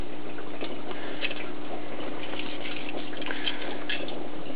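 Home-brewed beer runs through a siphon into bottles, a steady, close trickle and gurgle of liquid that continues without pause and without speech.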